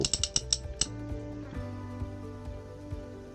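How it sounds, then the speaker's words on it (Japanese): A quick burst of sharp metallic clicks from the drag of a Daiwa Certate SW 18000-H spinning reel, followed by fainter mechanical ticking and a low hum. "魚の挙動を分かりやすくするのにドラグ音を大きくしたらしいです"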